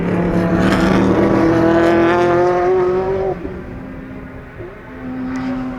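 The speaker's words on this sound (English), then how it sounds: "As you can hear, by the way, he's getting on the gas." A race car engine accelerating hard at the Sonoma Speed Festival, a loud rising roar with clear harmonic whine climbing and then cutting off as it passes, followed by a fainter engine note.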